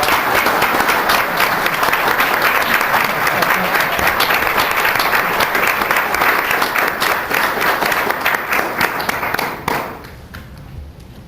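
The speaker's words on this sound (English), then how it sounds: "Give him a round of applause." Sustained audience applause at a city council meeting, a steady roomful of clapping that carries on loudly for about ten seconds before thinning out and fading.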